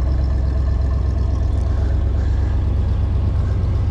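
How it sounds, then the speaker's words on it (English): A 1971 Corvette's big engine idles with a deep, steady rumble, loud and close, its low throb unbroken throughout with no voices. "a beautiful rumble for the car"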